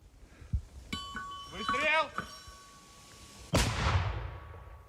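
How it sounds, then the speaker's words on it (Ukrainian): A single heavy boom of artillery fire lands partway through, trailing a long rumbling decay, preceded by faint muffled voices and brief tonal sounds. "За 4 хвилини бійці відпрацьовують від 6 до 10 пострілів"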